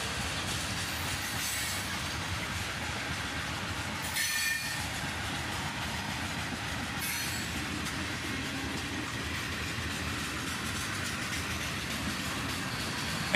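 A long southbound mixed freight train with covered hoppers and tank cars rolls steadily past nearby, wheels rumbling and clacking over rail joints with occasional metallic squeals.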